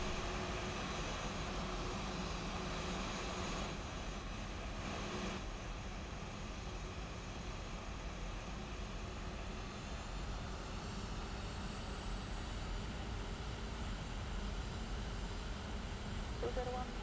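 Airliner engines hum in a Flight Factor flight simulator as the plane taxis, a steady, low, even drone with no breaks, fairly quiet throughout.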